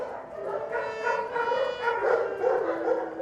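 Dachshund puppies yipping and barking in quick repeated high bursts, fairly close and loud, with a few whimpering notes mixed in.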